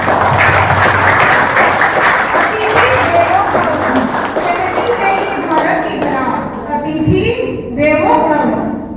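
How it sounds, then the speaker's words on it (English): An audience claps at an indoor retirement party, with sustained, dense applause that fills the whole stretch, and a voice carries on over it. "Please welcome them with a big round of applause. Please clap together."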